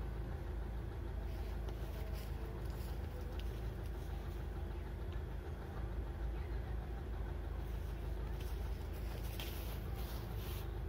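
A motor idles steadily to pump exhaust smoke into a mole's burrow, a constant low rumble running unbroken and fairly near with no talk over it.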